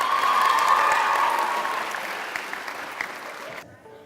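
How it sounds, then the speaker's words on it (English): A crowd at a leadership conference applauds loudly with dense, sustained clapping and some cheering tones, then the applause fades and cuts off into near quiet. "Clap it out, clap it out."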